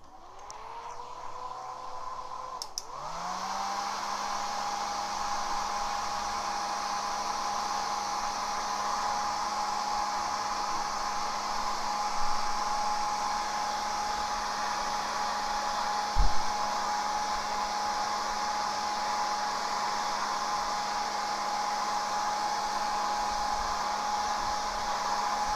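Hair dryer drying a watercolor painting clicks on and runs with a steady, loud whirring blow for over twenty seconds, with a brief bump in the noise midway.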